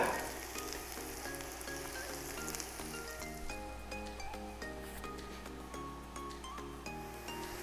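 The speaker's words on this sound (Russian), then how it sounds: "добавляем морковь и тоже обжариваем 3-4 минуты" Onion and carrot frying in a pan for a Greek cabbage-and-rice dish, a soft continuous crackling sizzle with a faint low hum and occasional light clinks, no talking.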